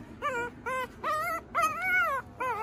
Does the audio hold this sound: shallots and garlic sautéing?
no